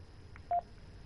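A single brief telephone keypad beep sounds as a number is dialed for a call in Need for Speed 2015, faint and isolated against a low hum.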